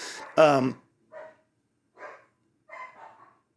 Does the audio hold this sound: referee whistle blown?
no